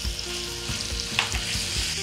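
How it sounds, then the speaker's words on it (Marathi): Garlic and green chili tempering with cumin and asafoetida sizzles steadily in hot oil, a close, continuous crackle broken by soft stirring knocks. "ही लसूण मिरचीची फोडणी ना, फोडणी छान आहे"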